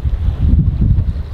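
Wind gusts steadily across a small sailing boat heading for Mosede Havn in rising wind and building waves, a loud low rumble of buffeting air with no voices.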